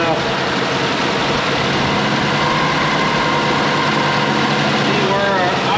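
A 1986 Mazda B2000 pickup with a leaking head gasket idles steadily in a loud, continuous low rumble, heard up close, with indistinct talk mixed in over the engine.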